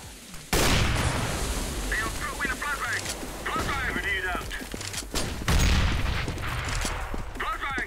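Gunfire in the video game CS:GO, with loud, dense bursts of rapid rifle shots and booming reports that come in clusters, overlapped by voice callouts and a person talking.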